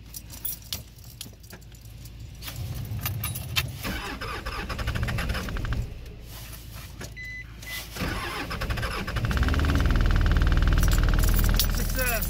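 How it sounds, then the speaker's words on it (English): Keys jingle, then a Mitsubishi Pajero diesel engine cranks and starts in extreme cold, helped by a Webasto heater and Optima red top batteries. It catches and settles into a loud, close, rough idle. "This is the coldest that we've ever started our diesel with a Wabasto heater and Optima battery red tops."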